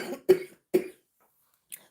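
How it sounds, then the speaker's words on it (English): A person whose lungs are affected by lupus coughs three times in close succession, with a fainter short cough after a pause, all close to the microphone in otherwise quiet surroundings. "Lupus affected my lungs, so that's why I cough a lot."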